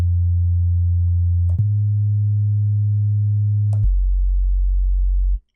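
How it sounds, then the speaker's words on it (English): Deep sub bass notes played on an MPC, three long sustained pure tones stepping in pitch with small clicks at each change, loud and clean with nothing else. "instant bass sound. So it was really subby."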